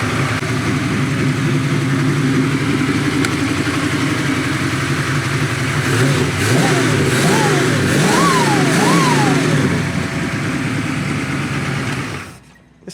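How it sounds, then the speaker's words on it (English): A 1939 Chevy Master resto-mod with a 434 Dart engine of about 500 horsepower and a 700R4 transmission idles loud and close, then revs sharply several times in quick succession before the sound cuts off abruptly. "This thing's got a 434 Dart engine in it."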